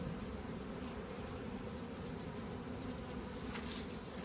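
Bees buzz in a continuous, dense hum that stays steady throughout, fairly soft, with no talking.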